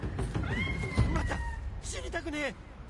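A small cat in the video game Ghost of Tsushima meows a few times, rising and falling calls, with someone talking over it and game sounds beneath.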